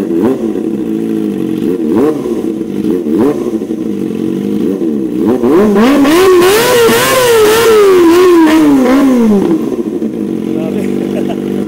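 A 2023 Kawasaki ZX25R SE motorcycle fitted with a loud new steel exhaust idles with a steady rumble, then revs up hard, the pitch rising and falling in a long wavering sweep before settling; close and loud, with a voice speaking over it.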